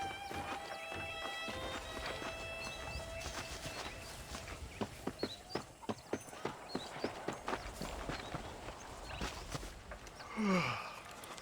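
Horse hooves clip-clop at a steady walking rhythm in the Western video game Red Dead Redemption, sharp close strikes over outdoor ambience with birds chirping, a horse snorting near the end.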